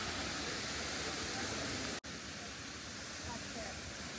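A steady, loud broadband roar from Materuni Waterfall, over 80 meters tall on the slopes of Kilimanjaro, pours close by without a break except for a split-second dropout midway.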